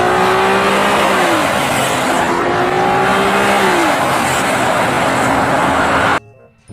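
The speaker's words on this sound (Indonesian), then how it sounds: "kalau yang ini mobil MotoGP Rexu balapan di sirkuit" Race cars roaring around a circuit, loud and continuous, with engine tones rising and falling as vehicles pass close by, then cutting off abruptly near the end.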